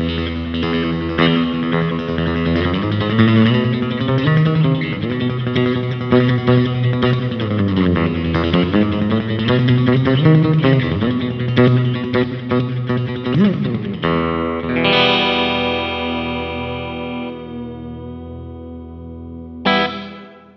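An electric guitar plays through a Digitech Polara reverb pedal on its halo setting: sustained chords with a shimmering, washy reverb, then a held note whose bright tail rings out before a final strum.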